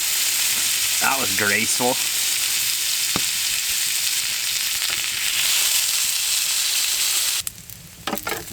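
Meat sizzling in oil in a pan over a wood-heated tent stove during winter camping, a loud steady hiss filling the scene, with a brief spoken remark near the end as the frying quiets.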